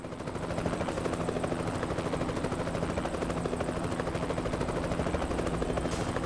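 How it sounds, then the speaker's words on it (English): A helicopter flies in the Euro Truck Simulator 2 video game, a steady, loud rotor chop with fast rhythmic thumping that continues throughout. "I can't get past the helicopter."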